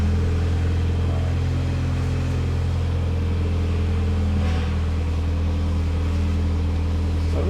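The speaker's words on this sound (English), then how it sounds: "So let's start the car and get some of that fluid to suck down." A Mitsubishi Evo 9 engine idles steadily after starting, giving a constant low hum with a droning tone that holds at an even level all the way through, with no talk over it.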